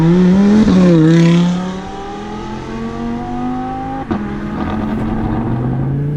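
Supercharged 800-horsepower Audi R8 accelerating hard on an open road, a loud close engine note rising through the gears with a gearshift break, then climbing again steadily.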